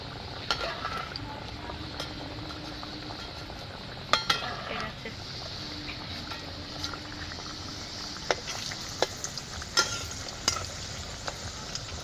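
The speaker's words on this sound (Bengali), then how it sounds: "তেলটা গরম হয়ে গেছে আমি এবারে তেলের মধ্যে মিষ্টিটা ছেড়ে দেবো" Chandra kala sweets sizzle in hot oil, a steady close crackle and hiss with occasional sharp pops and a few faint clinks of a utensil against the pan, and no talking.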